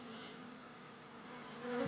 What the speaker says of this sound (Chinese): 将网篮倒扣，把蜂王和蜜蜂慢慢转移到网篮内